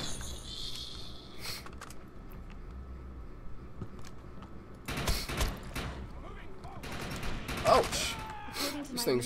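Rapid bursts of gunfire from mutated human enemies in the Defiance video game, with repeated volleys over a busy, noisy game soundscape that grows louder toward the end.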